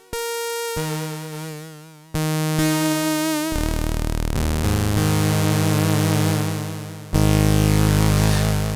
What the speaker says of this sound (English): perfectly good sawtooth there.